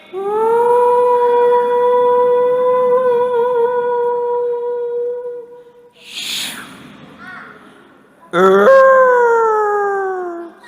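A wolf howl sound effect set in the middle of the night: a long, loud, sustained wail that holds for about six seconds, a short snort-like noise, then a second rising howl that slowly falls away, with no talking.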